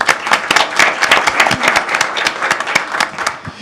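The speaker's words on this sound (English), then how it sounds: "So let's give her a round of applause." An audience at a city council meeting claps steadily and fairly loudly, with dense overlapping hand claps for a few seconds and no voices on top.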